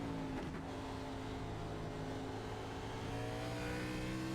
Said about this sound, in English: Carefully applying the throttle on corner exit